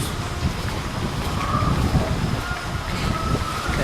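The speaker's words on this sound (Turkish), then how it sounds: "Hava biraz rüzgarlı arkadaşlar şu anda. Esiyor." Gusty wind rumbles against the microphone in uneven bursts at Teos Marina in Sığacık, loud and close, with faint background sounds mixed in.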